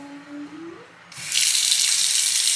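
A bathroom faucet in a Costa Rica home is opened and runs at good pressure, a faint hum giving way to a steady, loud hiss of water pouring into the sink.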